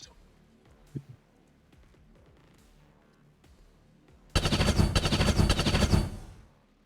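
An enemy turret in XCOM 2 fires a short, loud burst of rapid gunfire lasting under two seconds after a quiet stretch with faint background noise.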